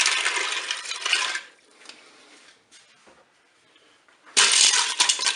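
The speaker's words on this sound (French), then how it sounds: "Ensuite, je vais mettre tout de suite mon bouillon." Broth splashes and gurgles loudly into a Cookeo pot holding dry pasta in two bursts, separated by a quieter pause with light clatter, close and with no talk.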